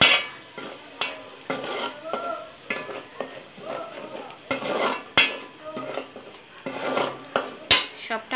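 Spiced water and masala being stirred and fried in a pan for fish-head muri ghonto with potato, with repeated scraping and clinking of a utensil against the pan over a steady sizzle, close and fairly loud.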